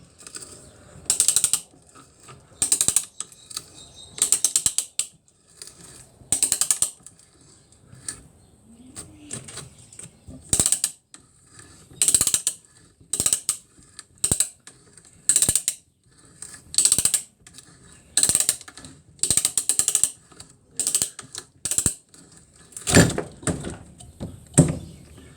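A hand woodworking brace ratchets in short clicking bursts while boring a small hole through wood, the bursts repeating in an irregular rhythm, close and fairly loud with quiet gaps between them.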